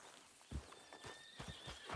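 Horses in the Red Dead Redemption 2 video game: a few soft hoof clip-clops on the ground and a brief whinny, fairly faint and close, with no speech.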